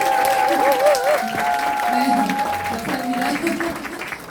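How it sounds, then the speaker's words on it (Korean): An audience applauds at a Korean company presentation, steady clapping that fades out gradually while someone speaks and a held musical tone plays over it. "한번 크게 박수 한번 다시 주십시오."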